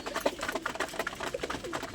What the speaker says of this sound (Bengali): এই পায়রা নেমেছে দেখুন